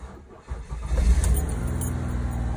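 A 2003 Ford Escape with a sluggish, heavy-sounding starter cranks briefly, then catches and settles into a steady idle, close by with no talking.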